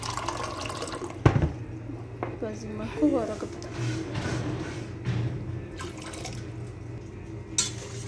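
Cold water pours into a pan while a crème caramel and jelly dessert is being made, a soft splashing and trickling heard under a voice, with a brief louder clatter early on.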